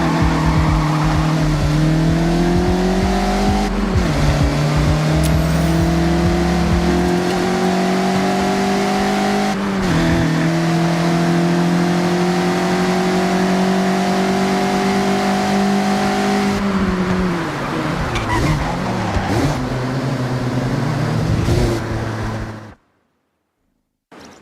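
A Mazda MX-5 rally car in Forza Horizon 5 drives hard for over twenty seconds, its engine droning and revving up and down through gear changes, loud and continuous, before cutting to silence at the end.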